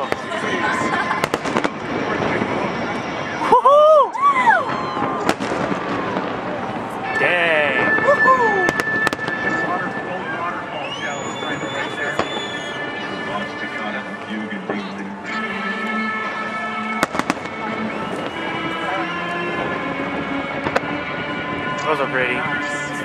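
Fireworks bursting over Lake Union in Seattle, a run of booming explosions and crackling bursts at a distance, with spectators' voices and exclamations heard between and beneath the blasts.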